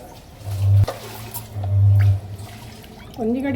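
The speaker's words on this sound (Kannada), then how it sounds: "ನೀರು ಹಾಕ್ಬೇಕು" Water splashes into a cooking pot of Mangalorean chicken curry (kori saaru for sukka and rasa), heard as two close, loud pouring bursts with a brief clunk between them.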